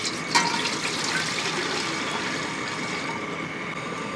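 Water pours into an appam steamer pot on a stove, a steady close rushing and splashing wash with a small clink at the start, continuous and fairly loud without speech.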